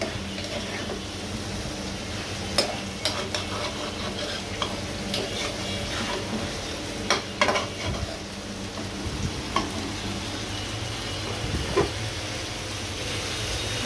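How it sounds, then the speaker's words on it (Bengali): Fish being sautéed in a pan for a home-cooked dish gives a steady, close sizzle, with stirring scrapes and light clatter throughout and no talking. "এইভাবে মাছটা আমি কষিয়ে একদম সুন্দর মতো কষিয়ে নিব।"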